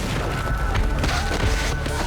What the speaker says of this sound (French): On voit comme un flash, suivi d'une explosion.